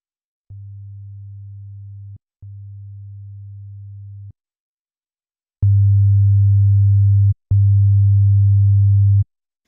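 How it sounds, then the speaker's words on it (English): A pure 100 Hz sine tone plays as two soft steady beeps, then after a pause as two much louder beeps, each lasting under two seconds with brief clicks at the edges. "If you take a 100 Hz frequency and play it soft"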